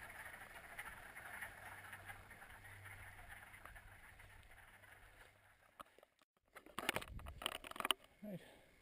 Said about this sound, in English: That is the sound of hundreds of frogs.